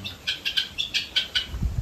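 Silkie chickens calling on a farm: a quick run of about eight short, high chirping calls in steady rhythm, fairly close, with a low thump near the end.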